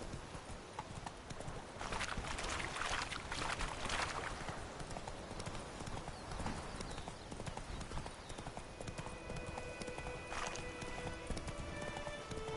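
Hooves of Roach, the horse in The Witcher 3: Wild Hunt, clip-clop in a steady rhythmic trot over a busy game soundscape, moderately close and continuous throughout.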